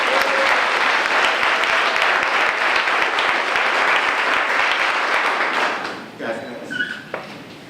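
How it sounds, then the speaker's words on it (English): An audience at a mayor's summer crime plan event claps loudly and steadily for several seconds, then the clapping thins out and fades into scattered claps and faint murmuring. "So let's give all of them a round of applause"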